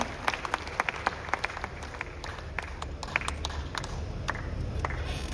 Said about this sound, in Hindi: और आप सबकी जोरदार तालियां